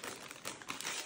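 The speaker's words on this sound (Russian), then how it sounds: "Это пакетик." A plastic bag crinkles steadily in someone's hands during a parcel unboxing at home, a close, continuous rustle lasting about a second with no voices.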